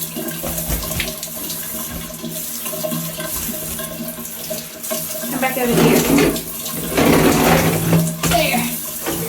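Water running from a tap or hand-held spray while a dog named Daisy is bathed, a steady hiss that swells louder in bursts as the flow is splashed over the dog, with a person talking over it.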